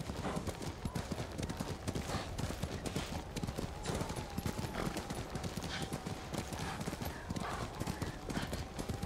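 Horse hooves clip-clop in the video game Ghost of Tsushima, a steady, dense patter of hoofbeats at a brisk gait, close and continuous, with a faint whinny-like tone mixed in.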